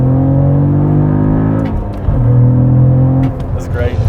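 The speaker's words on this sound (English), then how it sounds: "There are so many crackles and pops from this engine." A Cadillac CT4-V Blackwing with a 3.6-liter twin-turbo V6 and a six-speed manual gearbox revs hard, drops briefly at a shift and then pulls strongly again, ending with crackles as the throttle lifts.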